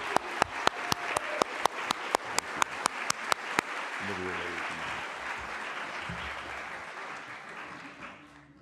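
A church congregation applauds to welcome new members during a worship service, opening with a dozen sharp, evenly spaced claps before spreading into broad, sustained applause that slowly fades, with faint murmuring near the end.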